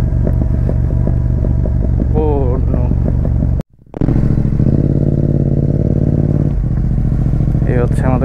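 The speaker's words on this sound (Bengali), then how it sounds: "Engine brake speed." A motorcycle descends a steep hill under engine braking, its loud close engine droning with a shifting, rising pitch and clattering. A short break in sound comes midway, and a voice briefly exclaims over it.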